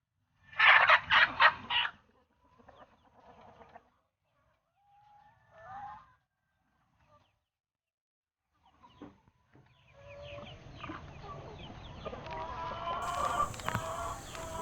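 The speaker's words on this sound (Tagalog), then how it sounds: "dito yung mga babaeng manok na nangingitlog ng fertile egg" Free-range hens that lay fertile eggs cluck on a farm, with a loud burst of clucking at first, then sparse quiet calls and a busier flock chorus building toward the end.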